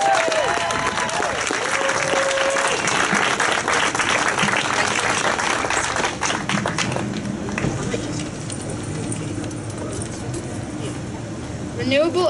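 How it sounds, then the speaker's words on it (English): Outdoor crowd at a climate strike rally in Croton-on-Hudson, New York, clapping for young student speakers; steady applause runs for several seconds, then thins and fades, with voices and street noise mixed in. "So let's give them a big round of applause and make them feel comfortable."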